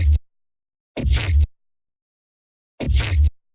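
Glitch effects in an electronic production, run through an auto filter: three chopped, stuttering bursts with booming low end, separated by silence.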